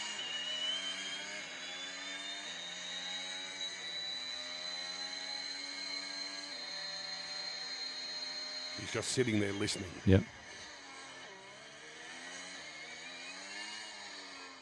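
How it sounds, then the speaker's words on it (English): A Formula One car engine lapping Albert Park circuit at the Australian Grand Prix, played back as a recording, whines steadily with its pitch climbing and dropping through gear changes, while people talk over it. "He listened to the engine sound with the gear changes and correctly guessed that was the Australian Grand Prix"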